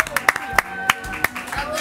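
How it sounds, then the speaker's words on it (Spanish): Studio audience clapping to welcome a guest on a TV show, a few distinct sharp claps in a sparse rhythm, close and fairly loud, mixed with voices. "Recibamos con un fuerte aplauso en el día de hoy a Juan Pablo Mellado."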